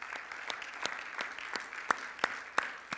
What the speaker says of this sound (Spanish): ¿Puedes darle un fuerte aplauso al Señor?